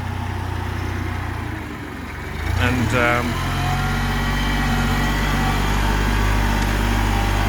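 Steady drone of a Kubota tractor engine running throughout, loud and continuous, with a brief voice speaking over it partway through.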